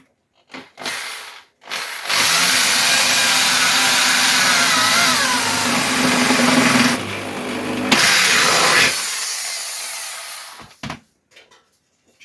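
A power drill bores through a body panel on a Ford Escort MK1 under restoration, with short bursts at first and then a loud, sustained whine lasting about seven seconds that shifts pitch midway before stopping.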